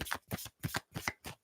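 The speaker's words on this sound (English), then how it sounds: "I'm going to shuffle some cards and have a think about what I'm doing" Tarot cards are riffled and shuffled in quick, close bursts, about five even rhythmic swishes in a row with no talk.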